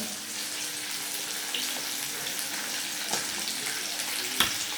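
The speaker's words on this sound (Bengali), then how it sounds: "এই যে দেখেন, চিকেন ফ্রাই হচ্ছে।" Chicken fries in a pan with a steady, hissing sizzle close by, broken by a few faint pops, and no one talks.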